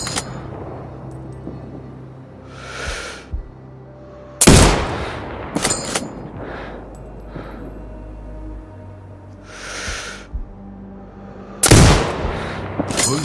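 Sniper rifle shots in the video game Sniper Ghost Warrior Contracts boom out several times at irregular intervals, loud and sharp with echoing tails, over quieter ambient game sounds.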